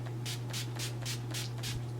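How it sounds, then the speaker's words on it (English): NYX Matte Finishing Spray mists onto a face in six quick, evenly spaced bursts, each a short airy hiss close to the listener, over a low steady hum. "and I'm just gonna spray this"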